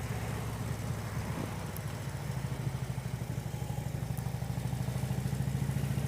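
Motorcycle engine idling in a parking lot, a rapid, even low-pitched putter that grows slightly stronger toward the end, fairly close and steady.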